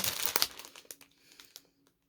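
Crinkling plastic packaging from a Mill Hill cross-stitch kit, heard alone as a loud burst of crackles that breaks into sparser, fading crinkles over about two seconds.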